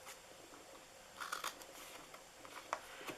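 Scissors snip through paper gift box pieces, quiet close crisp cuts in a few short bursts over faint room background.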